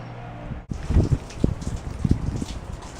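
Rain starts falling during a thunderstorm: after a sudden cut, a steady wash of close patter begins, with scattered heavier drops and splashes throughout and no speech.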